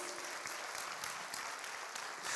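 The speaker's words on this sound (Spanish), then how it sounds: "Dale palmas a Jesús." Worshippers in a church service clap for Jesus, a continuous, even roar of many hands throughout the short stretch with no voices breaking through.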